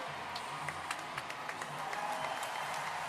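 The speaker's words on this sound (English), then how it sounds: "there was a big cheer there for Diogo Soares" Crowd in an arena applauding and cheering for gymnast Diogo Soares after his men's pommel horse routine at the 2023 Paris World Challenge Cup: a steady, dense wash of clapping and voices that carries on throughout.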